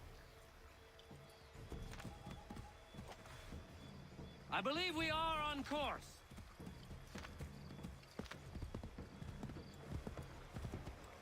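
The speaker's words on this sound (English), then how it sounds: "I was seeing if the horse could go over the bridge" A horse in Assassin's Creed 3 trots with a steady clip-clop of hooves, broken midway by a short whinny, while someone speaks over the hoofbeats.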